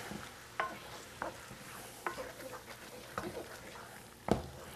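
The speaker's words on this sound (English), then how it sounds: "Get this all stirred up." Cooked onions and peppers with a cup of wine being stirred in a pan for shrimp étouffée: soft sizzling under regular scraping spoon strokes about once a second, ending with a sharper clack.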